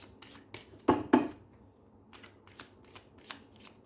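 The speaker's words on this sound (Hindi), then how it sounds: "चलिए मैं इसमें से कार्ड निकालती हूँ।" Playing cards are shuffled in a few quick riffled bursts, with two louder flutters near the middle and lighter shuffles after them, close and clear with no talking.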